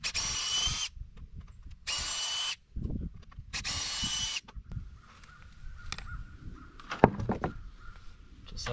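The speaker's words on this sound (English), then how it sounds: "These screws go right through the hardware cloth, preventing it from stretching out." A power drill drives screws through hardware cloth on a compost sifter frame at an off-grid homestead, with three whirring bursts followed by quieter handling and a sharp knock, close-up with faint talk in the background.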